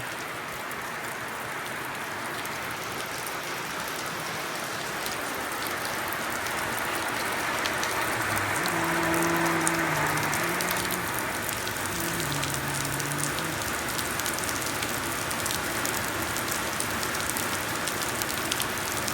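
Steady rain hisses throughout, with a faint tonal hum rising briefly in the middle and fading away.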